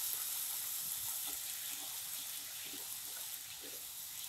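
Green beans hit hot oil with frying onion, ginger and garlic in a home kitchen pan, producing a soft, steady, hissing sizzle that stays fairly quiet and even throughout.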